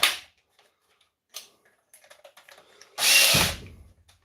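A Makita power drill drives screws in short bursts. There are a sharp whir at the start, a few quiet clicks and taps, then a louder sustained grind for about half a second near the end.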